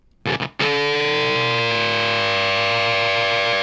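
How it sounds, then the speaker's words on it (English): A guitar plays through a Z.Vex Fuzz Factory pedal: two quick choppy stabs, then one thick, buzzing sustained chord ringing loud and saturated. "let's hear the Fuzz Factory alone."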